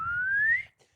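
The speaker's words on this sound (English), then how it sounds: "There's a slide whistle going around" A slide whistle glides steadily upward in pitch in one smooth, fairly loud rising tone and then cuts off, over a low background hum, with no voices.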